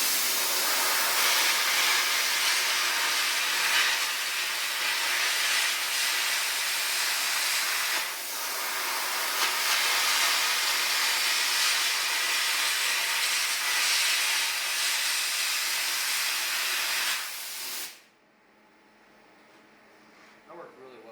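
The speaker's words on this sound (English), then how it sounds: "I'm not trying to teach anyone how to carbon arc gouge, I'm just showing that this machine can do it." Carbon arc gouging with an Everlast Skyliner 400S welder using a 1/4 inch rod, a loud continuous harsh roaring hiss that lasts about seventeen seconds and then cuts off abruptly into quiet.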